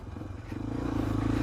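A Suzuki DR 250R enduro motorcycle engine drones close by over bumpy ground and builds slightly in loudness, a buzzing mechanical hum with some rattling over the ride.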